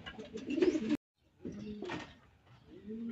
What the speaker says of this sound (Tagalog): ginula tayo ng ibon natin na si Aubrey.